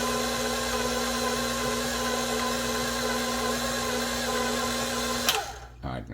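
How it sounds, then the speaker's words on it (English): An electric stand mixer creams butter with granulated sugar for a buttermilk pound cake, giving a steady loud whir that holds for several seconds before it abruptly stops and winds down. "We're gonna put half of that in and let it mix for about half a minute."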